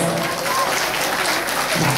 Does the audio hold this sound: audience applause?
yes